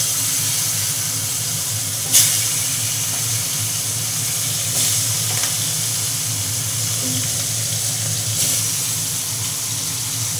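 A large fish head frying in hot oil gives a steady, moderately loud sizzle and hiss throughout, with a few brief sharp spits and crackles standing out. No one speaks.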